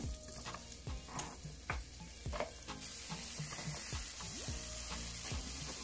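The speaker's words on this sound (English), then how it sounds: "We're gonna fry up the onions." Onions fry in hot oil with a bright, constant sizzle, broken by repeated sharp stirring knocks and scrapes against the pan, close up and with no talking.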